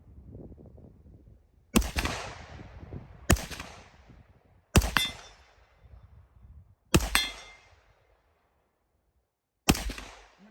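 Five loud, sharp rifle shots in 5.56 NATO from an AR-15 or Tavor bullpup, fired one after another at roughly one-second gaps, each with a ringing tail over quiet outdoor background.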